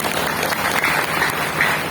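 Audience applause at an end-of-year gathering of an Islamic boarding school during a sermon, a steady wash of clapping held at an even level throughout.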